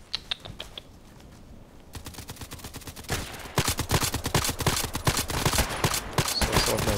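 Glock pistol fire in a first-person shooter video game: a few spaced shots, then dense rapid bursts of sharp cracks that grow louder and more continuous, with mechanical clicks between them.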